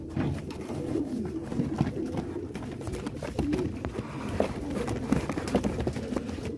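Several pigeons in a cardboard shipping box coo softly and continuously at close range, with scuffling and wing shuffles against the cardboard.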